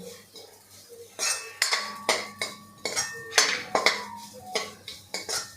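Rice being roasted for kheer is stirred in a pan with a metal spoon, giving repeated rhythmic scraping clanks and knocks about twice a second, close and clear with no talking.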